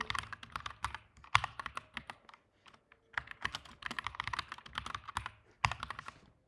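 A password is typed on a computer keyboard in rapid bursts of close, clicky keystrokes, with a short pause midway and then more quick tapping.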